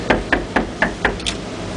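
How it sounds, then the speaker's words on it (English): Five quick, evenly spaced knocks on a hotel room door at the Southernmost Hotel in Key West, loud and close, followed by a faint higher clink. "Knock on the door."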